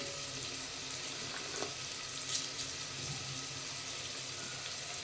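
Bay leaf, caraway, cinnamon and cloves fry in oil with tomato for a rajma curry, giving a soft, quiet, steady sizzle. A couple of light clinks break through it.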